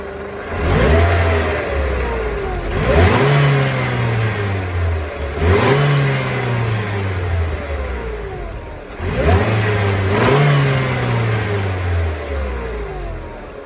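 Close, loud idle of a supercharged Mercedes-Benz SLK R170 AMG roadster, broken by four evenly spaced revs that climb and drop away with a whining compressor over the rumble, no voices.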